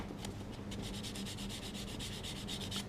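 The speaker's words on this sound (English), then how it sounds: "using this sanding pad and sand that away." Rapid rhythmic scratchy rubbing of a sanding pad on a resin model kit, steady back-and-forth strokes close up, with no talking.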